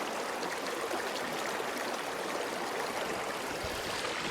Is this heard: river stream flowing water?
yes